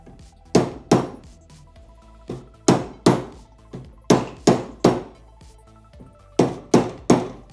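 A new seal being hammered into a bike part during a budget custom bike build: a series of sharp, close metallic taps in irregular pairs and clusters, each striking cleanly against a quiet workshop background.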